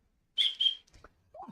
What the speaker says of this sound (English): It's a bear whistle.